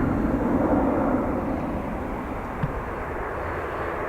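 A Ryanair jet taking off at Dublin Airport produces a steady, broad engine roar heard from a distance, holding constant with no talk.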